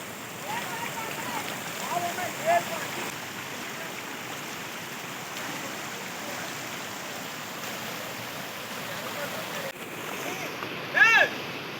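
Continuous rushing floodwater flowing through a damaged farm field nearby, a steady broad wash with a couple of brief louder bumps.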